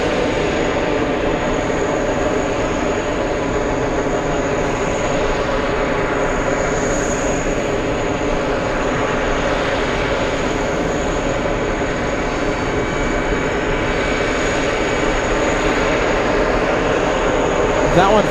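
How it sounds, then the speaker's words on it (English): Norse airliner arriving from Rome onto runway 22 Left at JFK, a steady broadband jet roar holding level throughout, with faint voices talking over it. "let's go for the arrival on 20 to left. We have Norse flying in."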